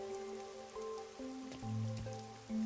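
Rain falls steadily in the neon-lit city of the video game Rain Code, a soft patter on surfaces under tonal game music, with no voices.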